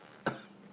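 A single short, sharp cough close by after smoking electronic cigarettes, fading quickly into quiet.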